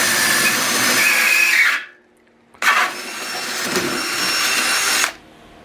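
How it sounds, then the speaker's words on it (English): A power drill bores through thin, very hard sheet metal in two bursts. Each run is a loud, close whine with a squealing edge. A short pause separates the bursts, and the drill spins down briefly at the end. "I'm going to go through with a smaller drill first."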